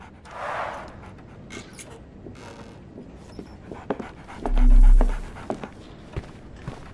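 A dog in a video game pants softly in quick breaths, mixed with light shuffling and small clicks, then a brief louder thump midway.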